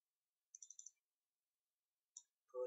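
A computer mouse clicks during 3D modeling work in SolidWorks: a quick close burst of several crisp clicks, then a lone click after a pause and a short duller knock, all faint against silence.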